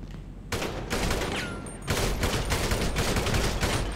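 Rapid gunfire at a crate in Grand Theft Auto, loud repeated bursts of shots after a brief quiet start, continuing in dense volleys to the end.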